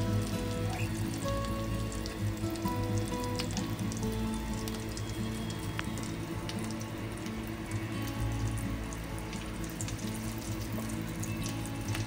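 Kolkata-style vegetable chops fry in shallow oil, giving a dense, continuous bubbling hiss with fine crackles that stays steady and close throughout, with no one talking.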